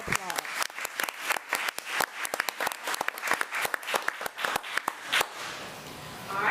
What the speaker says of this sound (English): Let's give Eli another round of applause.